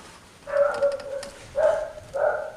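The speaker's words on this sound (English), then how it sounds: "And there's the dog." A dog barks three times at moderate distance, fairly faint, with short pauses between the barks.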